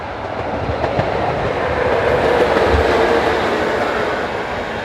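Electric locomotive 143 899 hauls a passenger train south from Heilbronn to Stuttgart, a loud steady rumble of wheels and carriages rolling past close by, with faint rail clatter throughout.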